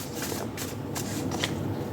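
Tarot cards being drawn from a deck, a brief papery shuffle and flick of cards close by, with soft rustling strokes throughout and no voices.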